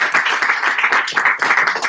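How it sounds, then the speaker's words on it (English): Rhythmic clapping from an audience at a live spiritual conversation event, close and fairly loud, with many hands beating in quick, uneven bursts for two seconds. "Can we clap for this?"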